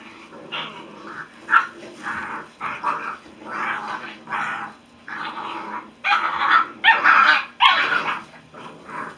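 Several puppies yip and bark in repeated bursts, overlapping high-pitched calls close by, growing louder toward the end.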